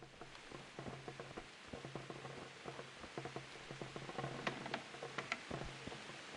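Steady rain patters across the ground in the medieval world of Kingdom Come: Deliverance, a soft hiss dotted with faint ticking drops, quiet and continuous with no voices over it.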